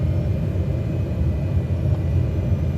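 Simulated airplane engine in Microsoft Flight Simulator, set in Germany, throttling up from about 80 knots: a steady, dense low rumble with a constant drone, holding even in level over the short stretch with no speech.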